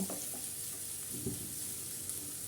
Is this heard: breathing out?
no